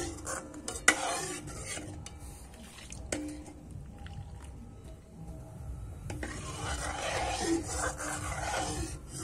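A spoon stirs thickening milk with cracked cardamom in a pot for date payesh, giving soft scraping and light clinks against the metal, faint and close with quiet pauses between strokes.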